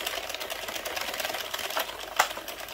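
An Addi Express knitting machine making a red and white beanie clicks steadily as its round counter ticks over, a busy mechanical rattle with one sharper click near the end.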